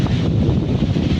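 Strong wind buffets the microphone outdoors near a jamun (Java plum) tree, giving a steady, loud low rumble that runs the whole time with no talk.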